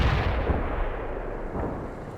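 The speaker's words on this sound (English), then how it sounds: "Incoming fire!" Artillery fire in the video game World in Conflict, a dense, booming barrage of rumbling blasts that rolls on continuously without pause.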